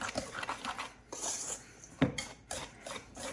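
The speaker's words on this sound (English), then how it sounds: "I like to whisk this together just like I did with the dry ingredients for the batter" Dry flour, sugar and cinnamon whisked together in a bowl for gluten-free batter, giving close, soft scraping and light clinking of the whisk against the bowl in short uneven strokes.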